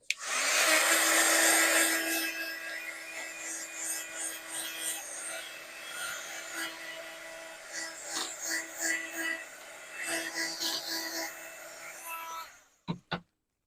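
Hair-dryer-style heat tool blasting a crafted paper card to dry it before die cutting: a loud continuous whoosh that eases slightly and wavers as it moves, then stops, followed by a couple of sharp clicks.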